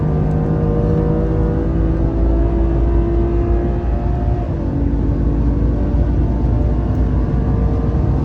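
A car on a racing circuit accelerates hard at full throttle, its loud, steady engine roar filling the whole stretch close up and without a break.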